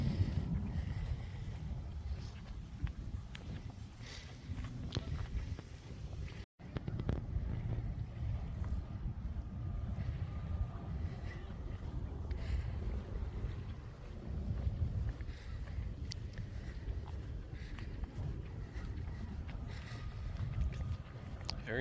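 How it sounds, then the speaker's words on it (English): Boats preparing to depart near Fort Rodd Hill on Vancouver Island, a low, continuous engine rumble heard from a distance beneath steady wind buffeting the microphone outdoors. "You can also hear the boats getting ready to take off."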